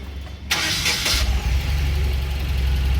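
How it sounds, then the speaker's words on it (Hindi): A Tata Ace Gold mini truck engine, with a misfire fault, cranks and catches, then settles into a steady loud idle close by. "पहले गाड़ी स्टार्ट करेंगे हैं,"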